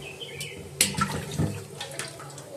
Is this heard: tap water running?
yes